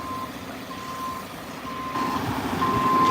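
A truck's reversing alarm beeps repeatedly in a steady on-off rhythm while it backs up to dump a load for spreading, with a low engine rumble underneath that grows louder toward the end.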